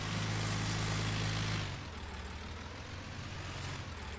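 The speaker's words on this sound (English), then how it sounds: "pulling this water trailer with this tractor is a learning curve" A tractor pulling a water trailer in Farming Simulator 19 runs with a deep engine drone that drops sharply in load partway through, then continues at a lower idle-like rumble, alone without talk.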